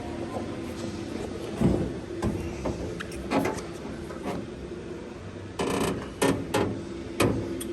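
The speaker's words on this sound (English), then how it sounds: "Let's show you the trunk." Trunk of a 1968 Chevrolet Camaro being opened, with a series of close mechanical clunks and latch knocks over low background noise, ending in several sharper bangs.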